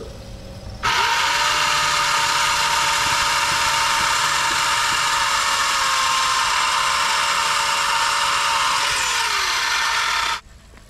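A loud small engine-driven power tool starts abruptly and holds a steady high whine for about ten seconds, then cuts off.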